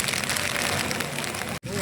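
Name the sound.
very heavy rain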